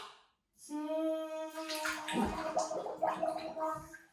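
A young child blows bubbles into bath water, a steady bubbling gurgle that starts after a short pause and carries on with splashy, burbling texture, close and loud, with a faint voice-like tone at first.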